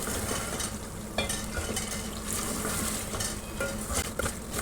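Beef gosht sizzles steadily in a pan while being stirred and roasted for a salan, with a continuous close frying hiss and scattered scraping clinks of the spoon throughout.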